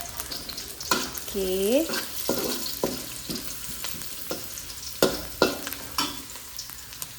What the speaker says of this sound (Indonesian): Kemudian bawang putih. Dan kita gongseng lagi.